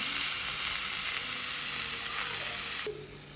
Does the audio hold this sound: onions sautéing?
yes